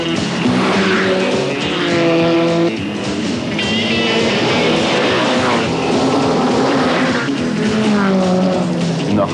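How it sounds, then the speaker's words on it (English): A rally car engine revs hard and climbs through its gears on a forest stage in Mundaring, Western Australia, loud and close, with harmonic whine rising and falling as it accelerates, tires scrabbling beneath. "a chance for Herridge to put his foot down."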